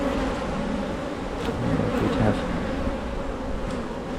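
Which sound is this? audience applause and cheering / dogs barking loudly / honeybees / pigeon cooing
honeybees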